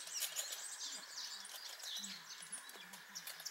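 Hornbill calls near a Land Rover's side mirror, faint and intermittent, with short chirps and tweets repeating over a low outdoor background.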